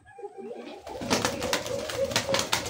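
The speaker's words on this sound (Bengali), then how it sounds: "এত সুন্দর একজোড়া কবুতর রাসগোল্লা" A pair of Rasgolla Lotan pigeons coos softly and repeatedly from close by, the calls starting after a brief quiet moment and continuing to the end.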